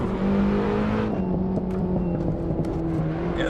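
A car engine revs in the Assetto Corsa racing game, a loud, steady droning note that holds and shifts slightly in pitch across a few seconds, near and continuous with no talk.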